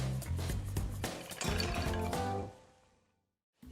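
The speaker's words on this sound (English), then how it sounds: "And in the meantime, I can add the pasta to the water." Paccheri pasta tumbles into a pot of water with a splashing, sloshing rush for about two and a half seconds, then fades to near silence before a brief sound at the end.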